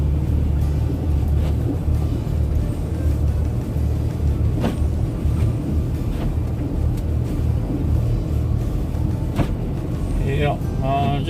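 A car pushes and spins through deep snow drifts on a road during a Valentine's Day blizzard, a constant loud engine and tire rumble throughout, with a voice briefly heard near the end.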